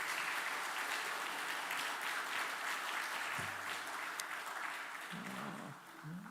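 A church congregation at an afternoon revival service applauds its pastor in a sustained, even wash of clapping from many hands, which fades slightly at the end.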